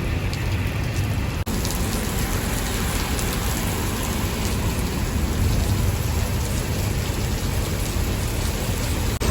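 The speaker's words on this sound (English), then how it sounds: "you can't hear me over the literal downpour that's happening" A heavy rain downpour hammers down close by in a loud, constant roar, with no talk heard above it.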